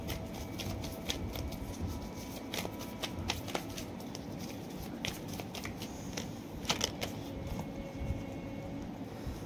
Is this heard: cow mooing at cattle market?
no